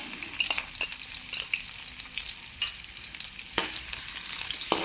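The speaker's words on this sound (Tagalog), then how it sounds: "Isunod natin ang sibuyas." Onions frying in a pan for catfish adobo in coconut milk, a steady soft sizzle with occasional stirring clicks, close and fairly quiet with no voices.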